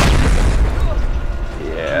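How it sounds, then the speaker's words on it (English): A heavy, booming video game explosion in Just Cause 2 rumbles loudly at the start and slowly decays, with a low roar trailing behind it. "they kind of made those explosions too loud"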